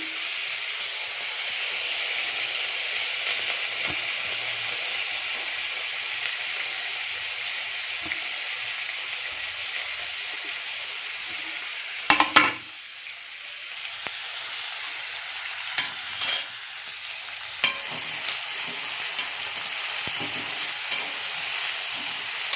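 Onion, tomato, green chilies and curry leaves sizzle and fry steadily in a pan, a continuous loud hiss broken by a few clinks and stirring scrapes.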